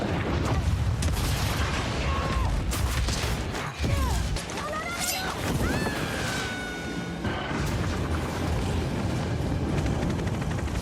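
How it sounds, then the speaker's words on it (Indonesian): A storage locker holding a device called The Heart blows up in an action film, a loud, sustained booming rumble with crashing debris and whooshing sweeps, dense and continuous for several seconds. "Parker akhirnya meledakkan loker penyimpanan The Heart"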